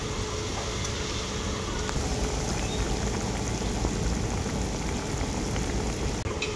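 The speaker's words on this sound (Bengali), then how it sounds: "ভেজে রাখা মাছ আর ভেজে রাখা বড়ি দেওয়ার পর ঝোলটা আমি আবারও খুব ভালো করে ফুটিয়ে নেব।" Pabda fish curry gravy with fried fish and fried bori bubbles in a pan, a steady dense crackling simmer heard close and alone.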